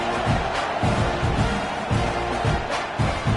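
A stadium crowd at a Texas A&M college football game murmurs and cheers in a dense, continuous roar, with scattered shouts rising and falling throughout.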